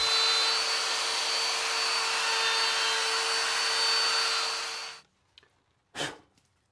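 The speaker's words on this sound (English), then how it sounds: "give this route a bit of a skim, maybe drop it about 5 mil with my router" Router skimming about 5 mm out of a guitar body cavity, a loud steady whine for five seconds that winds down and stops, followed by a couple of faint knocks and one short scrape.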